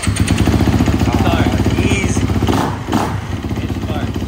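A brand-new, freshly prepped 2024 Kawasaki KX250F dirt bike engine runs with a loud, close, pulsing buzz that swells as the throttle is blipped, while people talk over it.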